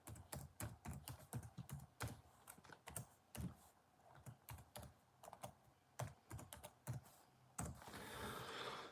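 Fast, close typing on a computer keyboard as an email address is entered: a dense, irregular patter of crisp key clicks with short pauses, quiet and alone.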